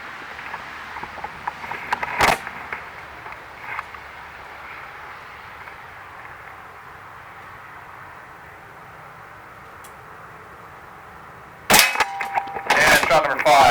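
A .177 Kimar K 760 spring-piston break-barrel air rifle fires, with a sharp crack near 2 seconds and then a loud cluster of metallic impacts and clangs from the target toward the end, separated by a quiet stretch.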